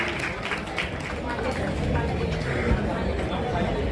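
Parents applaud at a student award ceremony. Scattered clapping mixes with crowd babble and a voice throughout.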